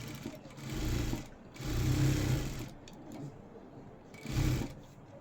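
A sewing machine top-stitching a blouse runs in three separate bursts of steady mechanical whirring, close and fairly quiet, with pauses of softer handling noise between them.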